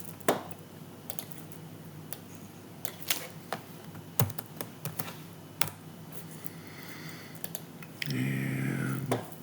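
Sporadic keyboard typing in a CAD program as initials are entered for embossing on a parametric snail cam, with irregular isolated key clicks close up and a denser burst of keystrokes near the end.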